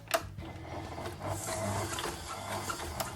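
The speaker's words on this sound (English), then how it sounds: "So now we're going to mix this through for about 3 to 4 minutes until it's nice and creamy." Butter, white sugar and brown sugar are beaten together for fudge, giving a continuous mechanical whirring and rubbing with a few sharp clicks, close and moderately quiet.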